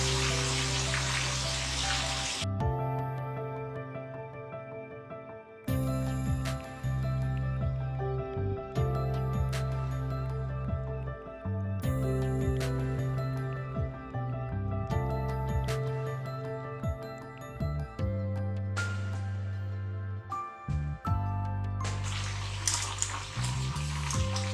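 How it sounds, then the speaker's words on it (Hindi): Chicken chargha deep frying in hot oil in a pot, a loud, continuous close sizzle and bubbling hiss, broken by a few abrupt cuts and shifts. "अब ये डीप फ्राई होगा, इसको आपने सही गोल्डन फ्राई करना है"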